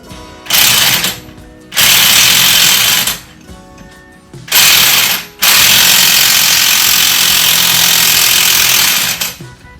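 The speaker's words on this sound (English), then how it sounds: "I wish I could figure out a way to slow this driver down, this impact wrench, which is kind of fast." An impact wrench hammers on the pinion of a Jeep WJ's Dana 35 differential in loud, close, rattling bursts, three short runs followed by one long sustained burst.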